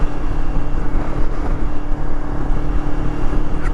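A 2003 R5 motorcycle engine while riding, a steady, loud, close droning rumble with wind noise and no pauses.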